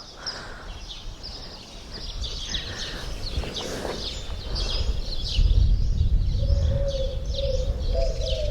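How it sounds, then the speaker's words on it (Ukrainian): Birds chirp and call repeatedly outdoors at moderate distance at a hilltop viewpoint on Fuerteventura, with a soft low rumble of wind or distant traffic beneath. "Може, лише природа, пташки,"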